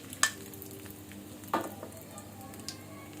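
Whole spices (bay leaf, cinnamon, cardamom, star anise, cloves, peppercorns) temper in hot mustard oil for kala bhuna beef, a faint low sizzle with a few sharp clinks and crackles over quiet background.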